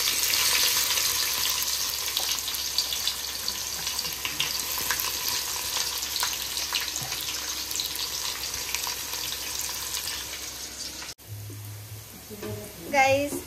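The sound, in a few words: onion frying in oil for biryani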